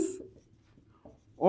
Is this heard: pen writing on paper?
yes